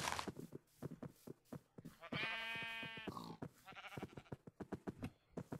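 Several pigs in a Minecraft-style video game, their grunts and squeals coming in quick, overlapping bursts, with one longer, louder cry partway through.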